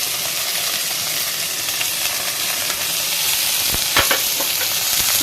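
Chopped beans, carrot and capsicum fry in a pan with a steady, bright sizzle and hiss, broken near the end by a few scraping stirs, close and alone with no talk.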